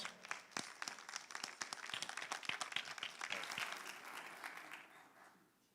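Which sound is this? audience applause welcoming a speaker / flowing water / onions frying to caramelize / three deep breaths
audience applause welcoming a speaker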